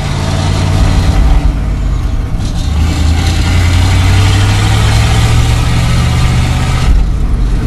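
A 1969 Chevy engine running at a steady idle, a close, loud low rumble that holds even throughout with a brief shift partway in and no talking.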